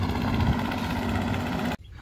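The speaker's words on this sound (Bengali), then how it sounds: "এই দেখুন একটা নৌকা যাচ্ছে" A boat engine chugs steadily on a river, a close, loud low-pitched drone that cuts off abruptly near the end, leaving faint background.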